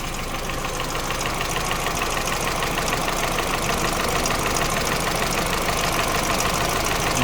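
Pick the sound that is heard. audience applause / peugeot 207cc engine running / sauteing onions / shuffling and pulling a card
peugeot 207cc engine running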